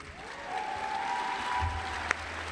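Applause rises from the audience at the McGeorge 2019 commencement, a moderate, even patter of many hands with a faint tone sustained beneath it.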